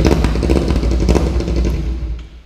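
A motorcycle engine idles and revs loudly with its muffler removed, giving a raw, unsilenced exhaust roar that stays close and steady before easing slightly at the end.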